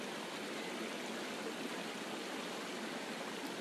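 Waterfall pouring steadily, a dense even rush of falling water with no breaks, soft in level and unchanging throughout.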